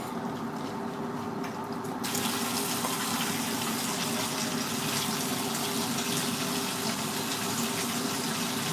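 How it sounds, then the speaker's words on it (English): Water runs steadily from a sink tap as something is rinsed, a continuous close hiss and splash that grows louder and brighter after the first two seconds, with no talking. "And then I'm going to rinse it one more time because I don't even trust myself."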